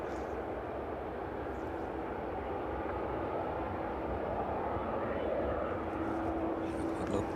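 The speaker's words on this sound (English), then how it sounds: "With the 777 there making its way down to runway 27 now." A Boeing 777 airliner taxis toward runway 27 at East Midlands Airport in the evening, a continuous distant jet rumble that holds steady throughout, with muffled talk faintly present.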